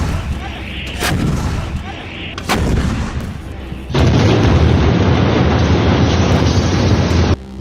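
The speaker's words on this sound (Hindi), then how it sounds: "तोप के गोले बरस रहे हैं।" Heavy booms and blasts of artillery shells firing and exploding, loud and close, with a sustained roar of continuous explosions filling the second half.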